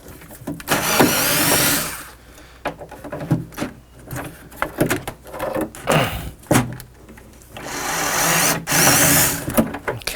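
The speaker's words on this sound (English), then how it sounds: "Where is John's electric screwdriver?" An electric screwdriver backs screws out of metal parts on a Rock-Ola Jump Bug arcade game cabinet during restoration, loud whirring bursts of a few seconds each, broken by clanks and rattles of parts and tools in between.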